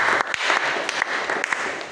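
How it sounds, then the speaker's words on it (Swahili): A church congregation at a leaders' seminar breaks into brief, lively applause, with scattered sharp claps over a dense wash of clapping. "Tuwapigie makofi wapendwa hawa."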